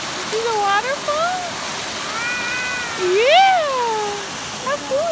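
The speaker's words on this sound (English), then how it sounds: "You see the waterfall?" A waterfall seen on a hike through storm wreckage, a steady broadband rush in the background under a higher voice and a baby's squeals.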